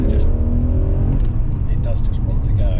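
A BMW E39 M5 with its V8 engine drives on slightly muddy roads, giving a loud, low continuous engine drone from inside the car, heard under someone talking.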